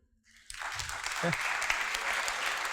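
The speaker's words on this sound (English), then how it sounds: "Another clap for you." An audience applauds a speaker after a scientific talk, clapping swelling in from near silence and settling into a sustained, even round of many hands, with a brief voice audible early on.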